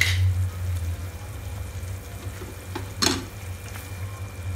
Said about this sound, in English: Our gravy is simmering for 6 to 7 minutes now